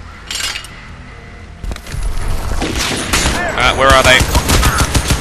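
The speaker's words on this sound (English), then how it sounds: "Die, I'm shooting at you." Gunfire rings out in the video game Crysis 2, with rapid bursts of shots and sharp metallic clinks that build toward the end, while someone talks over the action.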